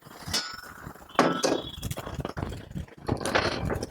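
Small metal nuts being fitted onto a box-type zatka machine make close, scattered clinks and taps of metal on metal, separated by short pauses and handling noise.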